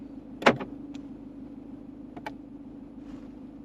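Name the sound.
car doors locking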